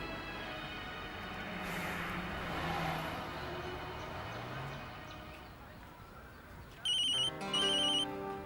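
An electronic phone ringtone signals an incoming call, sounding as two short, bright, repeating bursts near the end after a stretch of muffled background noise and voices.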